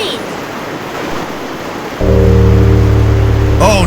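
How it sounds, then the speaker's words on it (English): Animated rain patters as a steady hiss for about two seconds, then a loud, droning tone swells in and covers it. "Your challenge is to stop the rain."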